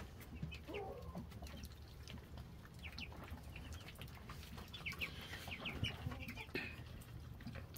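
A pen of young meat chickens mixed with roughly three-week-old meat ducks, about 65 birds in all, with scattered clucks and peeps rising over a busy low murmur of flock noise.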